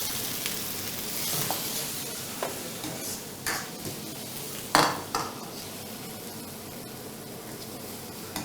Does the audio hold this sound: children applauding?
no